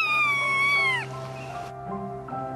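A cat gives a loud, close, drawn-out meow that bends downward, then follows with a softer second cry, heard alone.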